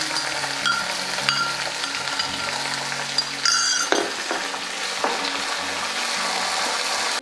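Green chillies and chopped ginger frying with garlic in a hot pan for a lavalolikka pickle, a steady close sizzle with occasional stirring clinks and scrapes against the pan, no voices.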